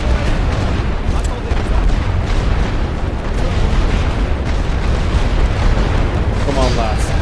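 Mortar explosions in a Great War Western Front battle game rumble as a loud, continuous barrage of booming blasts that fills the whole stretch.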